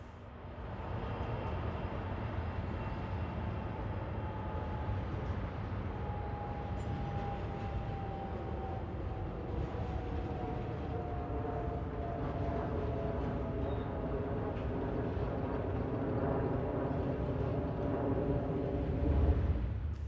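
Freight train led by a 2015 C45AH locomotive and an SD70M built in 2001, a steady low engine rumble with a long drawn-out horn-like tone sliding downward, distant and even throughout.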